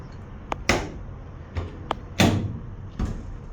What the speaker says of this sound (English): Then it does have these door catcher deals.